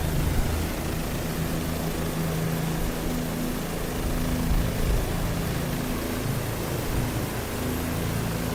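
Propeller aircraft flying aerobatics, a steady broad engine drone with a low hum, fairly loud and continuous with slight swells, no voices.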